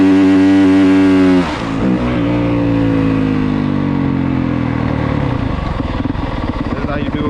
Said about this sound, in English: rev the bike up, get the clutch to the biting point where the bike start moving, and it's all one motion.